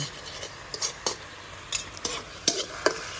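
A utensil stirs and tosses stir-fried tilapia with celery in a pan, making soft scraping strokes in an uneven rhythm over a faint sizzle, close and fairly quiet, with no talking.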